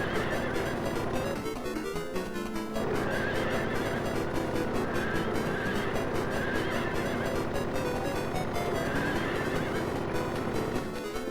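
Horses from the video game Silent Hill 3 neigh and whinny loudly and repeatedly over a dense, continuous game soundtrack, with faint hoof clatter mixed in.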